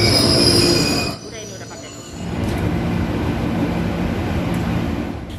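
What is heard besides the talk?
KRL commuter train running, wheels squealing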